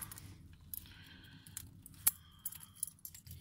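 A bunch of keys carrying a small Wenger pocket knife with scissors jangles close up, a few quiet metallic clinks and rattles, with one sharper chink in the middle, in a quiet room.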